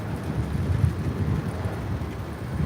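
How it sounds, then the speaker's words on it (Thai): Strong wind buffets the microphone of someone cycling to work in the morning, a continuous low rumbling roar with uneven gusts and no clear voices. "ลมแรงเนาะ"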